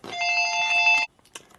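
A telephone rings in a workshop where a 1942 Harley WLA 45ci flathead transmission is being rebuilt, with one steady electronic trill lasting about a second, then faint clicks and handling noises.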